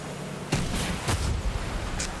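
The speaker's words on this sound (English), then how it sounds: "Oh yeah, the new explosions." Explosions in the Fortnite video game, with a sharp blast at about half a second, a second burst near one second and a lighter pop at the end, set over a steady game background.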